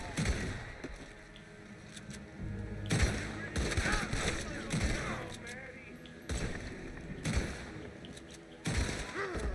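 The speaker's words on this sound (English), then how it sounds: "Somebody's shooting at me again." Gunfire in Red Dead Redemption 2 cracks out in loud separate shots, about five spaced across several seconds, over a busy game background with voices talking between shots.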